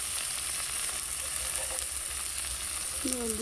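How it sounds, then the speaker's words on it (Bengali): A shallow pan of pointed gourd and shrimp keeps up a soft, steady sizzle and hiss as water goes in, fairly quiet and with no voices. "এবার পরিমাণ মতো একটু জল দিয়ে"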